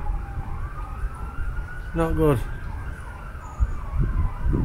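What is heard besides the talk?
emergency vehicle sirens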